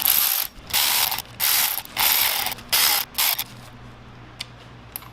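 A ratchet tightening cam cap bolts on a YZ250F engine during a shim-under-bucket valve clearance job, heard as about six bursts of rapid, close clicking separated by short pauses, followed by a few faint ticks.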